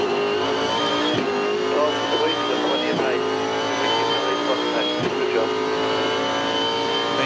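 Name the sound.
Supercar race car downshifting through the gears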